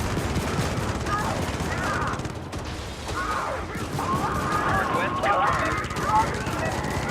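Friendly gunfire in a video game battle with rail cannon strikes, a continuous dense stream of shots and mechanical clatter running the whole time at steady loudness, with a voice talking over it.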